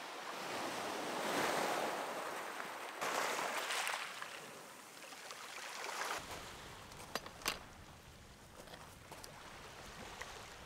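Waves wash around the groynes of a beach at high tide, a steady broadband surf that swells and eases, with gusts of wind noise on the microphone and a few brief knocks near the end; no voices.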